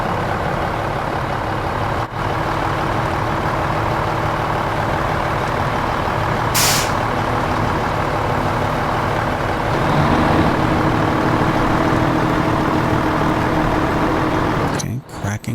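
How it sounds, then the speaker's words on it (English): A truck engine in Snowrunner drones steadily while its wheels spin too fast on ice, the loud continuous rumble swelling slightly near the end, with a brief hiss partway through. "my wheels are spinning too fast"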